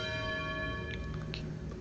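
A bell in Outer Wilds: Echoes of the Eye rings out with a sustained, resonant tone and steady overtones. It is heard alone, with a few fainter strikes layered on top.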